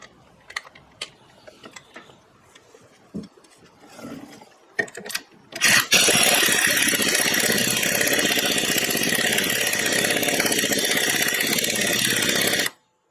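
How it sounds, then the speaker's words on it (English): An impact gun on a low setting works on a Cub Cadet mower's steering. Scattered clanks and handling noises come first, then a loud continuous rattling whir for about seven seconds that stops abruptly. "I got this gun set on super low because I don't want to go crazy"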